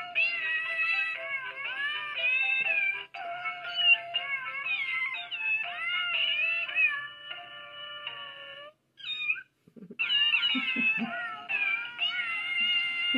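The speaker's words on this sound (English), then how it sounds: "the kitty cats are going to sing you birthday" Several cats meow repeatedly and overlap in long, wavering cries, with a brief pause before the chorus resumes.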